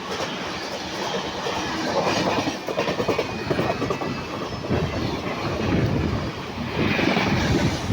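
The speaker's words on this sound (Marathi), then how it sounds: "सो ट्रेन आली आहे" A Mumbai local AC train, a direct service, pulls into CST station with a steady rumbling roar and rail clatter, fairly close and continuous, swelling slightly toward the end, with no talk over it.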